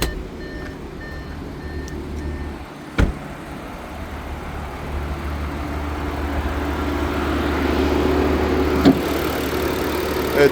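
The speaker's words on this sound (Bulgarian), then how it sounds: "двигател работи повече от безупречно." A car engine idles steadily in the engine bay, a low continuous hum with a couple of brief clicks and a faint rise in level toward the end; no one speaks.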